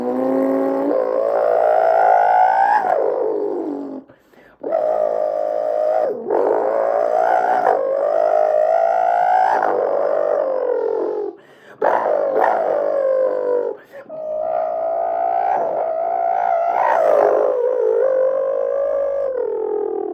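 A voice imitates a Pagani Zonda Cinque V12 supercar engine, building loud, droning revving roars that rise and fall over about twenty seconds, broken by a few short pauses for breath.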